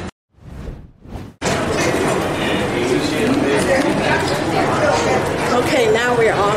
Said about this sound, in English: now we're on the train down to the baggage.